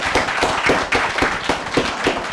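A church congregation at a Palm Sunday service claps together in steady, rhythmic applause, loud and close, lasting the whole moment without speech.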